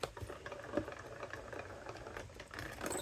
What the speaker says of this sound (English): I just want to run this through real quick just to check, to see if my machine is good